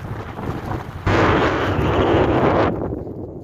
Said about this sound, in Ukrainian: вітер великий на вулиці